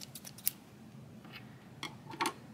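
Scissors snip a long tail of chunky alpaca yarn during a crochet project, giving a few faint, sharp clicks and snips spread across a quiet room with no talking.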